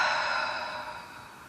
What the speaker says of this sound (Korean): 크게 들이쉬고 입을 벌려 내쉽니다